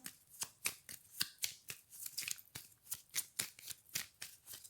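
Tarot cards are shuffled in a quick, irregular series of crisp riffling flicks and slaps, close and fairly quiet, with no talking.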